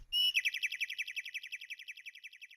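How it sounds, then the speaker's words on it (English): A General MIDI bird tweet sound-effect patch plays a rapid, evenly pulsed string of synthetic high-pitched chirps, about twenty in quick succession, clean and alone with no background. "normally a bird tweet would sound like this"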